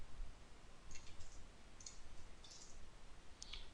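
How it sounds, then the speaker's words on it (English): Several quiet computer mouse right-clicks, sharp and isolated, spaced over a few seconds against a low hum, during a C programming session. "Easy, right click."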